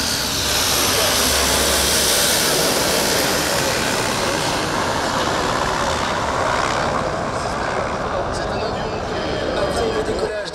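Loud, continuous roar of military tanker and transport aircraft engines powering up for takeoff at an airshow at Avord air base, a dense rumble that holds steady throughout.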